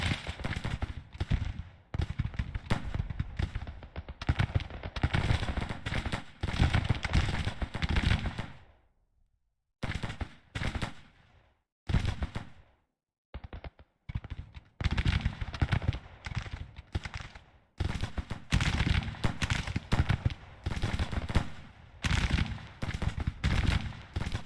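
Volleys of musket fire crackle through a Civil War battle in Grand Tactician at Gettysburg, loud and dense in repeated bursts of overlapping shots, broken by a couple of brief quiet gaps.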